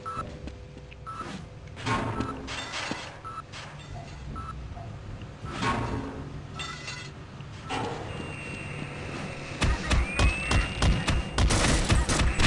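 Automated turret gunfire in Half-Life, a scattered crackle of shots and sharp game effects with electronic beeps, growing denser and louder toward the end.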